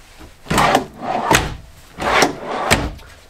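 Dresser drawers in an RV bedroom slide open and shut four times in a row, each stroke a close, clear wooden rumble that ends in a sharp knock.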